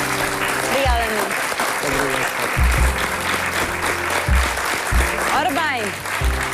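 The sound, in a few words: studio audience applause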